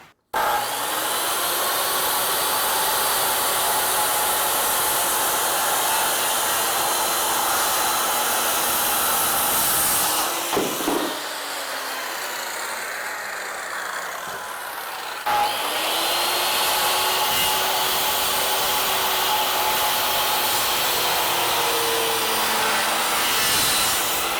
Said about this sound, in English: So I'm setting a saw at 45 degrees.